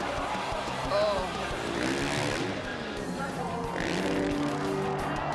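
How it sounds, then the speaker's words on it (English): A freestyle motocross motorcycle engine revs hard during a rotating trick at a Nitro World Games best trick contest, a loud continuous engine drone with pitch sweeps rising and falling, mixed with commentary speech. "You can hear him just revving out of that second rotation"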